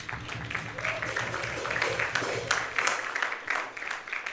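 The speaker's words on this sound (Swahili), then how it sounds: "Tuwapigie makofi tena." Audience applause fills a graduation ceremony at the KIMC Eldoret campus in 2024, a steady, dense patter of many hands clapping that holds for several seconds, with a low hum and some voices underneath.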